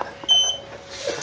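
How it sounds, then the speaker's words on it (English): A toy robot gives a short, high electronic beep that rings out briefly, then fades into a quieter tonal hum. "Why are you beeping?"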